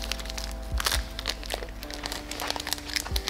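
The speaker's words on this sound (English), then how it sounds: "I'm gonna take my wrist pin and unwrap it." Close crinkling and crackling of plastic packaging as an engine wrist pin is unwrapped during a forged 1.6L Miata bottom end build, with irregular rustles over a low background hum.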